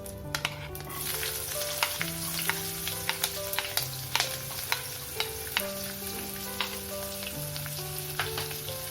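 Onions go into hot oil with cumin seeds and asafoetida in a pan, giving a steady close sizzle with crackling pops and occasional stirring scrapes for a mixed vegetable sabzi.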